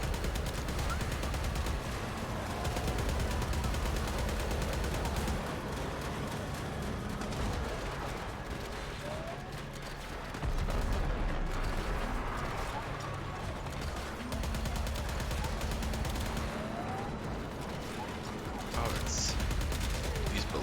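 Heavy enemy gunfire in the Warframe video game, with ballistas shooting and things blowing up: dense, sustained rattling fusillades and booms that run almost without pause, loud and close, over a rumbling low background.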